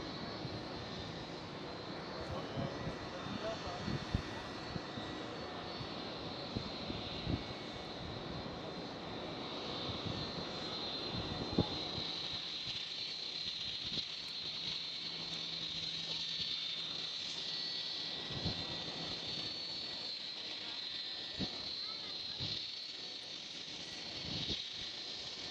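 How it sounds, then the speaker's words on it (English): Icelandair passenger jet taxiing at Amsterdam Schiphol airport, a steady distant engine whine and rumble holding throughout with a faint high hum on top, no voices. "Iceland Air performing the last checks and then going for the short taxi ride and then for the flight towards Keflavik."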